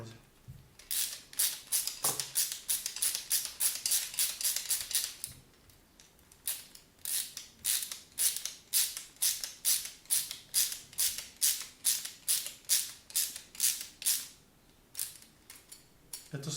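Steady rapid ratcheting clicks while bolts are tightened on a P3Steel RepRap Prusa 3D printer frame, long runs of sharp close ticks broken by a few brief pauses between bolts.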